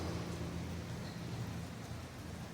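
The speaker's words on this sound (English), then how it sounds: "It's fucking raining." Steady rain falls in an outdoor setting, a dense, even hiss with low rumble that continues unbroken at moderate level throughout, with no voices.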